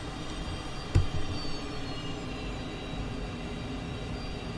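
A steady broadband drone from a simulated aircraft engine in Microsoft Flight Simulator, with one brief thump near the start and otherwise an even, continuous hum at moderate loudness with no talk.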